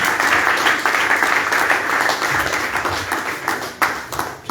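A church congregation at a spiritual training session claps and cheers in acclaim of Jesus, a steady wash of applause and shouting that stays loud throughout.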